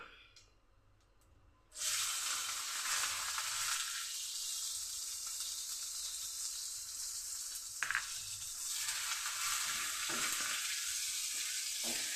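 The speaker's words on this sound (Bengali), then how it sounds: "ফোড়নে আমি রাঁধুনি দিচ্ছি দিচ্ছি পেঁয়াজ কুচি আদা কুচি আর কাঁচা লঙ্কা" Radhuni seeds, chopped onion, ginger and green chili drop into hot tempering oil, bursting into a loud sudden sizzle after a quiet start that stays strong and steady, with occasional stirring clinks.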